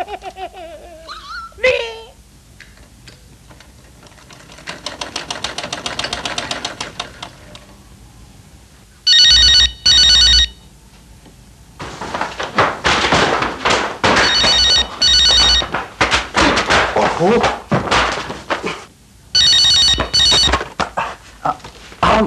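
An old-style telephone bell rings in repeated loud bursts with pauses between them, alongside people talking and other indoor noises in a household setting.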